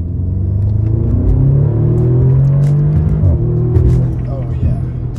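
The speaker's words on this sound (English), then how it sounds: "So I'll do a little second gear pull here." A Stage 1 EQT-tuned Audi S3 with colder spark plugs pulls hard in second gear, its deep engine rumble rising steadily in pitch from inside the cabin, then easing off near the end.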